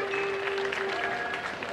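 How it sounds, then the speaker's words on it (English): Brief, steady audience applause at a live cultural programme, a soft, even wash of clapping with a faint sustained tone running underneath. "A big round of applause for"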